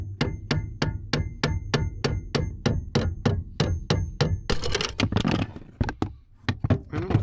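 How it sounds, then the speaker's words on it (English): A long-handled hammer knocks a clutch pedal pin off its perch on a GR86/BRZ: about fourteen sharp, evenly spaced metallic strikes, close and loud, then a brief rattling clatter and a few final taps. "take your long handled hammer and knock it off its perch"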